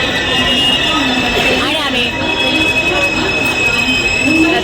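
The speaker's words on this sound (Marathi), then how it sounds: "आमची ट्रेन आली आहे" A train pulls into a station with a loud, close rumble and high, drawn-out wheel squeal, while voices carry on nearby.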